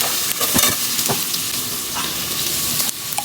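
Spices sizzle and fry in a pan while being stirred, a steady hiss broken by a few scraping stir strokes; ground coriander, turmeric, cumin and Kashmiri chili powder go in together, close and fairly loud with no talk.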